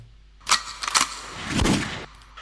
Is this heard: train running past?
no